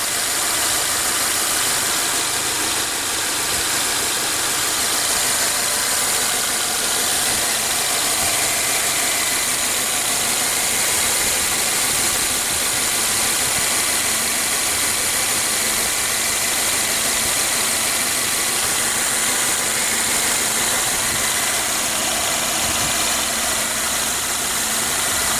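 A 2013 Subaru Outback's 2.5 L horizontally opposed four-cylinder engine idles steadily and close by, with an even, continuous hum and no voices.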